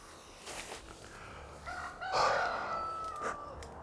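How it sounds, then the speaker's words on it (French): A rooster crows in the background on a French morning, one drawn-out call rising near the middle and trailing off, moderately loud and alone with no talk over it. "c'est juste un coq en arrière-plan qui nous réveille ici le matin en France"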